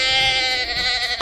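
A sheep lets out one long, wavering bleat, loud and close, holding steady for over a second before trailing off.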